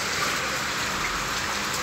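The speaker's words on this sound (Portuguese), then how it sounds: "aqui também está com muita chuva" Heavy rain falls on an afternoon in Maranguape, Ceará, a dense, even hiss of drops that stays loud and unbroken from start to finish.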